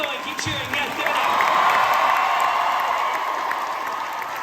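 A London crowd cheers and applauds, a sustained wash of clapping and shouts that rises after a moment and holds steady at moderate loudness.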